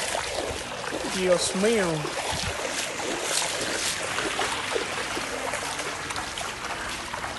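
Floodwater rushes past a bridge in a steady broadband wash of flowing water, loud and close, while someone speaks over it briefly.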